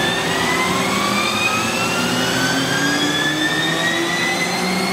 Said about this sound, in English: Running the spindle.